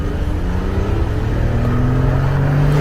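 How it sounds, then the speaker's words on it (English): A 1997 Mercedes-Benz S320 W140 at full throttle gives a loud, close engine roar whose pitch climbs steadily as it accelerates, heard alone without talk. "I'm just gonna floor this car"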